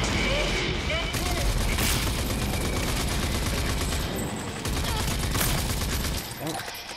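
Dense, rapid gunfire in the video game Rage 2 crackles almost without a break for several seconds, then briefly thins out near the end, with voices under the shooting.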